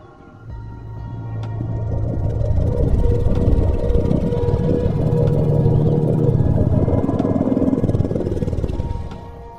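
Custom dinosaur growl from Roblox Dinosaur Simulator, a long loud rumbling roar with deep layered tones that swells and sustains for several seconds before fading.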